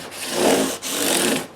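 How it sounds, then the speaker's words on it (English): Emery cloth rubbed along the frets of a Gibson guitar after 600-grit polishing, a steady close scratchy rasp in two long strokes with a brief pause between them. "Now I follow up that 600 grit with emery cloth."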